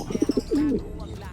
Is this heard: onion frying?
no